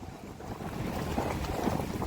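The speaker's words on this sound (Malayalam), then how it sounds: "speed boat" A speedboat runs across open sea off Obhur beach in Jeddah, its engine a steady broadband rumble mixed with gusty wind buffeting the microphone.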